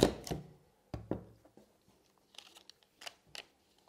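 A 35 mm film splicer cuts through film stock with sharp mechanical clicks and thunks, a couple of louder snaps followed by lighter scattered taps and rustles, close and dry in a quiet room.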